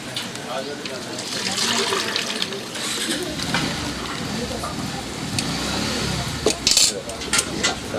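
Water poured from a bucket during a ritual washing at an ashram anniversary celebration, a steady splashing wash running throughout with occasional clinks of vessels, while people talk nearby.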